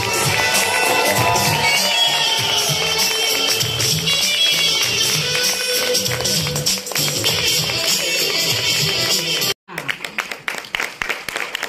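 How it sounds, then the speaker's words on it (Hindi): Loud, dense audience applause fills a hall at a motivational business event, with voices mixed in; after a brief break, sharper, more separate claps continue. "जोरदार तालियां बजती रहनी चाहिए"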